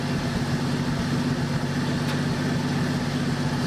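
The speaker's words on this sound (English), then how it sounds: "Now it already idles better." A 1984 Dodge Ram D100 truck engine idling after brake cleaner was sprayed in, a steady low rumble with an even pulsing rhythm, close and continuous without talking.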